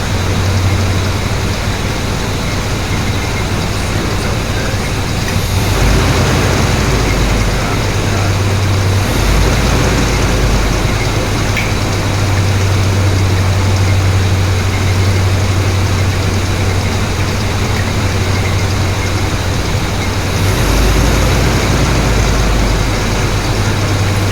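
A 350 TBI V8 in an '88 GMC Jimmy idles steadily with a loud low-frequency drone, the pitch dipping and surging briefly a few times as the idle wavers, with no talking.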